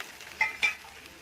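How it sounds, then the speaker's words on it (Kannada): Onion, garlic and green chilli frying in hot oil while being stirred, a short close sizzling hiss with two quick scraping stirs, no talk. "ಮೆಣಸಿನ್ಕಾಯಿ, ಎಣ್ಣೆ ಚೆನ್ನಾಗಿ ಫ್ರೈ ಆಗಬೇಕದು"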